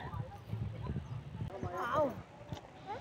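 A horse or camel walks through a village, soft irregular hoofbeats close by while people talk over them.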